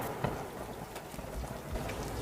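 Steady rain falls as a continuous hiss with scattered close drops, played under a dramatized historical story about a monsoon during the siege of a fort, with no voices heard.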